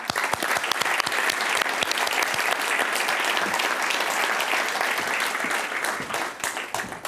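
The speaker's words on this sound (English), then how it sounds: "Please, let's give a round of applause for Anne-Laure" An audience at the Swiss Who's Who NextGen Awards gives a full, continuous round of applause, dense and even throughout, easing slightly near the end, with little talk over it.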